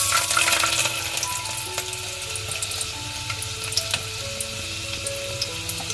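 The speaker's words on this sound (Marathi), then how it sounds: "मी आता लसूण टाकते फोडणीला" Garlic dropped into hot oil in a large pot for an Agri-style crab curry, a dense crackling sizzle with scattered sharp pops and a few stirs, close and fairly loud, no talking.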